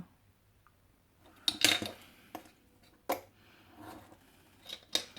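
Paper being cut on a cutting mat for a scrapbook bookmark, heard as a few quiet, scattered snips and scrapes with short gaps of near silence between them.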